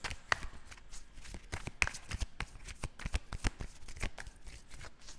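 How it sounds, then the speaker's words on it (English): A deck of cards is shuffled in quick bursts of riffling and slapping, close and fairly quiet, with short pauses between passes. "But let me shuffle though."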